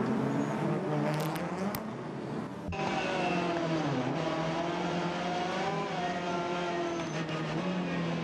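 WTCR touring cars on the Sepang circuit droning past at steady engine pitch on the formation lap, a continuous layered engine hum with a brief sharp change, moderately loud.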